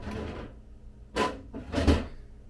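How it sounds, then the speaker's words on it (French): A refrigerator drawer sliding open or shut, two short broadband rushes about half a second apart following a fainter rustle, fairly close in a quiet kitchen. "Dans le tiroir du frigo."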